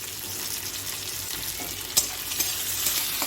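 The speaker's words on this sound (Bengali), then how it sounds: "টমেটো দিয়া তো একটু টমেটো আর পেঁয়াজ যেগুলো আছে এগুলো একটু ভাজলাম" Onion and tomato fry in oil in a pan, producing a dense, continuous sizzle with stirring scrapes and one sharp clatter partway through.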